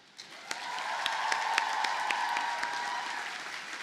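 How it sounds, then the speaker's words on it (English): A commencement audience applauds in a sustained, even wash of many hands clapping, heard from a distance with a few sharper individual claps standing out near the start, without speech over it. "Please also join me with more rapturous applause"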